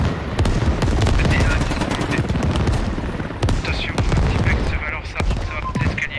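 Bursts of automatic gunfire spray an armored vehicle in the military shooter game Squad, with rapid dense volleys, booming reports and near continuous loud firing throughout.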